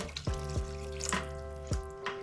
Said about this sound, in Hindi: अब आधा कप पानी डाल के मैं मटर को थोड़ा सा पकने के लिए